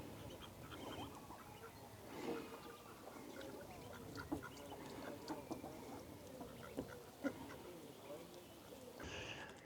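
Ducks quacking at Derwent Water in the evening, scattered calls over a steady outdoor background with some talking mixed in.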